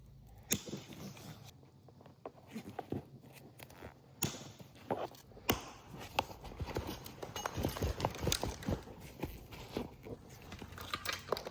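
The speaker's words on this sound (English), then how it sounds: "So we're going to cut all the rings, and this thing will just come right off." Irregular, faint snips and clicks as metal seat cover rings are cut off a Lexus ES350 seat, the sharp ticks scattered unevenly against a quiet background.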